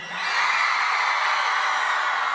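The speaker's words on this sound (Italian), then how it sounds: "Ma me lo fate un urlo fortissimo?" A festival concert crowd in Mestre screams and cheers loudly, a dense sustained roar that swells within the first half-second and holds steady throughout.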